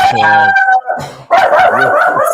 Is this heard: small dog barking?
yes